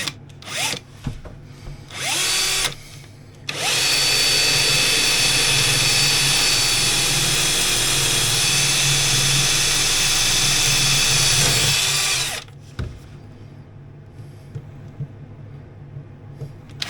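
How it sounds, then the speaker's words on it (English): A power drill bores holes aboard an old sailboat: two short bursts of whine, then one long, loud, steady high-pitched run of about nine seconds that stops abruptly, followed by quiet handling clatter. "I'm just going to drill some holes"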